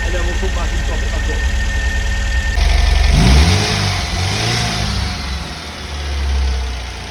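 A restored MGB GT drives with its engine running loudly close by, rising and falling through gear changes and revs as the car pulls away, wind and road noise underneath.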